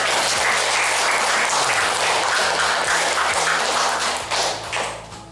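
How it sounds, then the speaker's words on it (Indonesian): A classroom of students claps loudly and steadily for classmates, a dense burst of applause that thins out and tapers off near the end. "Tepuk tangan."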